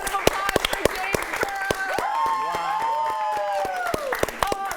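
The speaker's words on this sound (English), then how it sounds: "Let's give a huge round of applause for James" An audience breaks into applause and cheering for director James Burrows, a spread of sharp claps under loud excited voices and a rising whoop.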